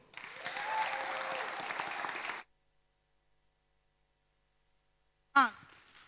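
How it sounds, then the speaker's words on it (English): Audience applause for startup founders at an investment summit demo day, a couple of seconds of moderate clapping that cuts off into silence, then a brief sharp burst near the end. "another applause for all the founders who have pitched in our third round"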